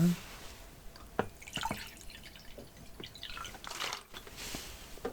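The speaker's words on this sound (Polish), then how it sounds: "nasypałem ci do kubka i zalejemy wodą" Hot water from a kettle is poured into a mug in a quiet, close setting: a soft, trickling flow with faint drips and small splashes, gentle and low in level, with no talking.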